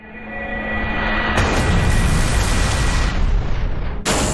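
Lunar Cannon attack in the Manamon 2 video game: a loud, sustained rumbling blast that swells and roars for several seconds, then breaks off abruptly into a brief bright burst at the end.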